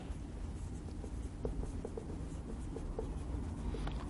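A teacher writes on a board during a history lesson: soft, faint scratching strokes in short bursts over a quiet room hum, with no speech.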